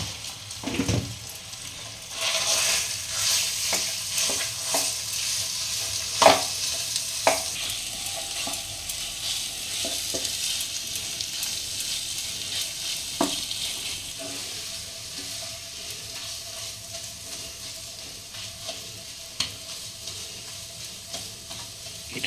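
Grated boiled potato filling with salt fries in a pan while being stirred, giving a soft continuous sizzle punctuated by scraping spatula strokes and occasional clacks against the pan, close and fairly quiet.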